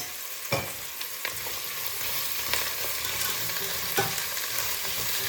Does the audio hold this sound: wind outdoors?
no